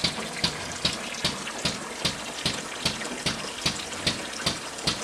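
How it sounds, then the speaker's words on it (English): A SKIMSTER floating oil skimmer drawing oily wastewater through a 3/4 inch hose toward an air diaphragm pump: steady rushing, gurgling water with regular pulsing surges about every half second, close and loud. "The SKIMSTER floating oil skimmer is skimming the oily wastewater through the 3/4 inch"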